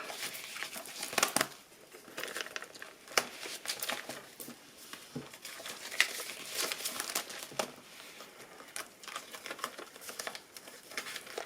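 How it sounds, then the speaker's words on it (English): Cash is slipped into an old, long-used paper envelope with close, quiet crinkling and rustling, plus a few sharp paper taps and handling noises. "And I'm going to put that in my envelope."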